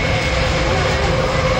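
A Navy multi-role fighter jet at the Fairford Royal International Air Tattoo airshow gives off a loud, continuous, broadband engine roar with a steady whine, close by and unbroken throughout.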